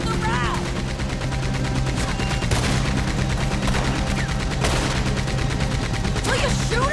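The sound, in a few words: gunfire in the video game Red Dead Redemption 2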